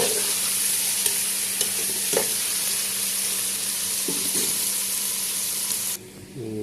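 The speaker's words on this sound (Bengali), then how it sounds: "তারপরে টমেটোগুলো দিয়ে দিলাম নাড়াচাড়া করে দিলাম" Tomatoes being stirred into puti fish (swamp barb) in a hot frying pan, a steady close sizzle with scraping spatula strokes, continuing alone until the frying suddenly drops off near the end.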